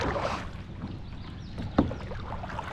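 A kayak paddle dips and splashes softly on a lake during largemouth bass fishing, with light water sounds and faint wind and a single small knock partway through.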